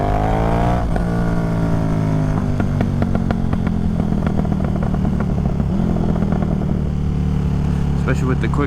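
A KTM 1390 Super Duke R with a Stage 2 flash revs hard close by, its engine note rising and climbing through quick-shifted gears in a loud, continuous roar.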